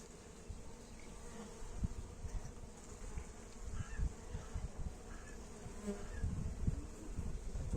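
Honeybees shaken off a brood frame while a hive is being reduced give a dense, steady buzzing swarm sound, close and continuous, with a few soft knocks and thumps from the frame.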